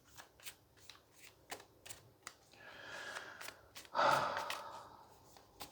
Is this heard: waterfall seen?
no